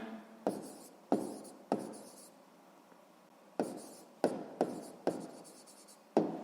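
Pen strokes on paper come in short scratchy bursts, close and quiet, several separate marks with pauses between, no voice.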